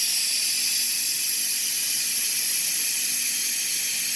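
A loud, continuous hiss of steam rushes out of an Instant Pot pressure cooker without pause, steady and bright throughout.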